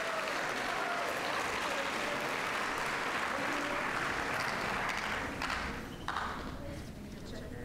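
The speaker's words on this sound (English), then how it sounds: "Let's give all of our mathematics, statistics, and data science winners a round of applause." A junior science fair awards audience applauds the mathematics, statistics and data science winners with loud, dense, sustained clapping that eases slightly toward the end.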